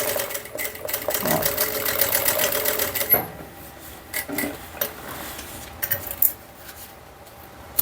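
Sewing machine stitching a side seam on a handbag, with quick bursts of mechanical whirring and clicking that stop and restart, close and fairly loud, with brief pauses between runs.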